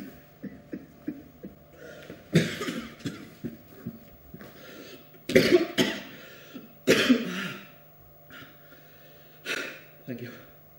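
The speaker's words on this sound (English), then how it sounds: "he was coughing" A man in a Kyusho martial arts session coughs repeatedly in harsh, breathy bursts with gasps and throat clearing between them, close and loud, under brief spoken words.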